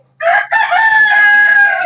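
A rooster crows loudly and close by, a short opening note followed by a long drawn-out call.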